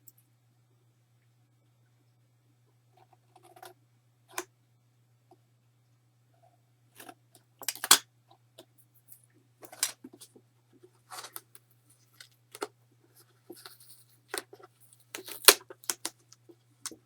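Scissors trimming material for a homemade travel box, faint sparse snips and rustles at irregular intervals over a quiet low hum, growing somewhat busier toward the end.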